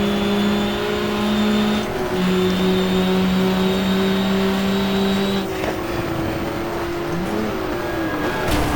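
A Porsche 968 GT3-class race car in the GTR2 racing game, running in a 1994 BPR GT event at Jarama, drones loudly and constantly, its engine pitch shifting at gear changes and easing off under braking.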